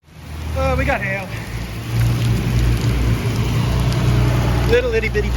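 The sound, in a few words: pea-sized hail hitting car during storm chase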